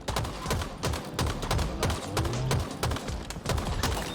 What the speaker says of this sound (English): I like the Bandit rifle. It's fun.